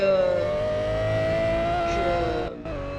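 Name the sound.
car driving in Roblox video game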